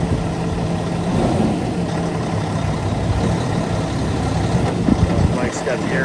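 A 2013 Peterbilt 386 truck engine runs steadily as the truck circles a yard with the air brake on, a loud diesel rumble with an occasional clank, as someone talks over it.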